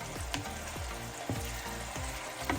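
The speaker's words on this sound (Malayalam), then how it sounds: "നമ്മുടെ അരപ്പെല്ലാം നല്ലപോലെ തിളച്ച് വന്നിട്ടുണ്ട്" Egg curry masala paste bubbles and sizzles in a pan, with soft popping bursts recurring about every half second, fairly quiet and alone without talk.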